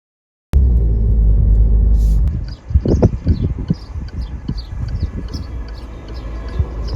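Car interior on roads through Portugal: a steady engine and road rumble that drops off after a couple of seconds, followed by uneven low thumps and bumps with faint high chirps over continuous background noise.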